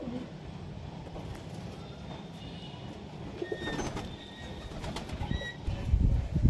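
Desi high flyer pigeons coo softly in a loft, low murmuring calls under faint background rustling, with a louder shuffle or flutter near the end.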